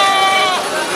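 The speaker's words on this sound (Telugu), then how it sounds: "మేపు గొర్రెలు ఉన్నాయి" Sheep bleating at a rural livestock market in Nemmikal, a few drawn-out wavering calls up close over a background of crowd babble.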